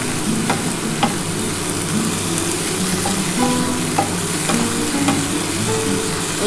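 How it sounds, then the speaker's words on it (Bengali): Fish frying in hot oil in a home kitchen, a steady dense sizzle that runs throughout with occasional sharper crackles and pops, close and fairly loud, with no voices. "মাছটাকে ভালো করে ভাজতে হবে। খুব ভালো করে ভেজে নিতে হবে।"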